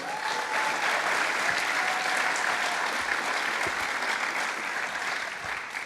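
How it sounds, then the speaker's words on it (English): A graduation audience claps steadily for several seconds, a dense continuous wash of applause from a large crowd that holds at full volume and tapers slightly at the end. "Give yourself a round of applause."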